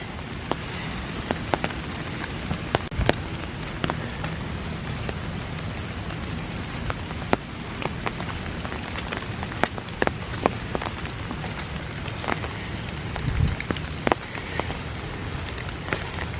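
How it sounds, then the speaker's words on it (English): Steady rain patters all around a wooded hiking trail at Iroquois Park, with scattered heavier drops tapping close by and a constant wash of drizzle in the background; no voices. "I wish it'd stop raining."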